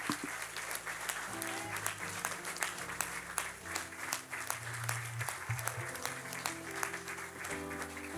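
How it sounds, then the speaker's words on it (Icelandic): An audience at a gospel choir rock mass in a church gives sustained applause, a dense, steady patter of many hands, with a sustained low tone and murmur faintly underneath. "Gefum öllum gott klapp hér í kvöld."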